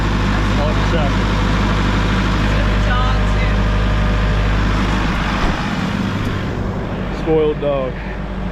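Road traffic rumbling past near a hillside homestead, a steady low drone of engines throughout with a vehicle swelling closer toward the end, while people talk over it.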